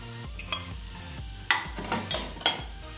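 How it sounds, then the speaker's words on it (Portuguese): Bacon and garlic sauté in olive oil in a pan. A soft background sizzle runs under several sharp utensil scrapes and clinks against the pan, spaced irregularly and heard close up, with no voices. "Já deixei fritar. Só tem bacon e alho."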